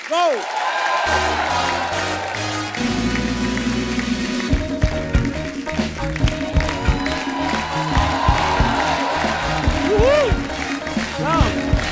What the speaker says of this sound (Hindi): आप सबकी जोरदार तालियों के बीच मैं आमंत्रित करना चाहूंगा मिस्टर आदित्य रॉय कपूर एंड संजना सांगी